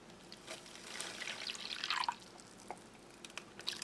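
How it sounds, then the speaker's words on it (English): Water is poured into an army arctic field ration pouch up to the fill line, giving a soft, close trickling and dripping that swells in the middle and then tapers off, with no talk over it. "There is a fill line on the packet, so I'm pouring up to the fill line."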